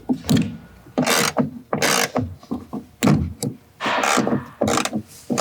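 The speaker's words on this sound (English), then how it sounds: "grab your T50 Torx bit and then remove that plastic piece and unscrew the seat belts" Seat belt bolt being unscrewed with a T50 Torx bit on a sixth-generation Ford Ranger, close clicking ratchet bursts and metallic rubbing in uneven repeated strokes.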